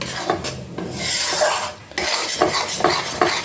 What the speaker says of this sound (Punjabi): ਤੇ ਹੁਣ ਆਟਾ ਭੁੰਨ ਲਈਏ ਆਪਾਂ